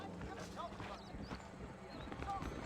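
A horse gallops in Red Dead Redemption: rhythmic hoofbeats thud under game music and ambient sound, with spoken dialogue playing over them.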